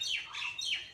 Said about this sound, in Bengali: পেয়ারা গাছে পাখি ডাকছে